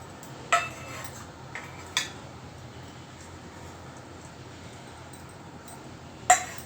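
Chopped dry fruits tipped into churma in a metal dish make a few faint, sharp clinks and taps spread over several seconds against a quiet background.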